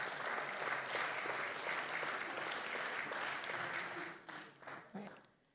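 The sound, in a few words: audience applause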